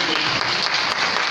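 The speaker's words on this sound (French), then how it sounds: "On applaudit, s'il vous plaît." Audience applause at a presentation event, a dense steady wash of clapping lasting about a second, loud and continuous with no clear breaks.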